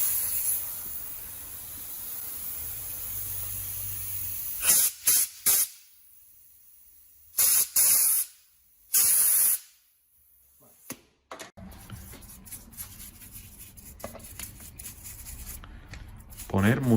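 Air blows in short, sharp hissing bursts to clear the fuel screw of a two-stroke enduro motorcycle carburetor, a few spurts close by, with steady background noise and a voice talking between them.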